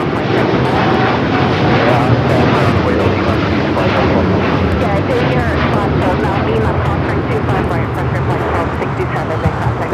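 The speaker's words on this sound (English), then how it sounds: "That is United Airlines 152 taking off to Hong Kong on the 787-9 Dreamliner." A United Airlines Boeing 787-9 Dreamliner takes off from LAX bound for Hong Kong, a loud, continuous, rumbling jet roar close by with a person talking over it.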